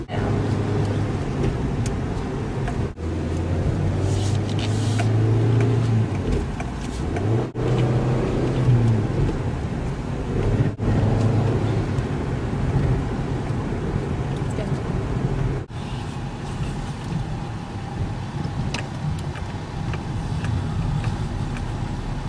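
Car engine pulls steadily under way after a shift into third gear, a continuous loud drone with brief breaks at each gear change, and people talk over it.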